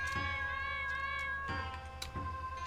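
A cat in the fantasy video game Legionwood meows in the town of Hawkshire, a short tonal mew over a steady, faint game music bed.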